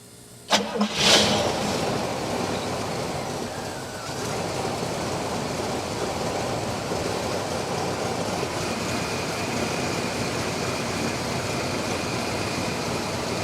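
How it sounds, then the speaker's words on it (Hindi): A 1973 Cadillac 7700 cc V8 cranks briefly and catches with a loud burst, then settles into a steady, rumbling idle that continues to the end. "But just look at that sprawl of N engine from 1973, the glory days of Cadillac. Let's start her up."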